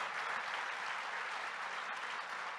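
Steady, dense applause from a church congregation during a Sunday service sermon, sustained and even throughout with no pauses, heard from a moderate distance.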